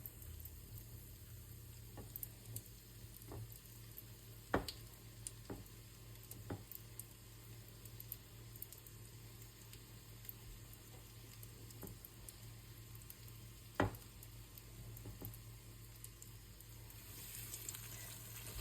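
Sausages coated in egg and breadcrumbs fry in hot oil with a faint, steady sizzle, broken by a few sharp pops and crackles.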